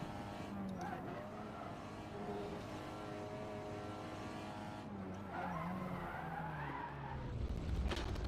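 A race car's tires squeal and skid as it understeers toward the wall on the Nordschleife in a racing game, engine droning steadily beneath sustained, wavering screeches.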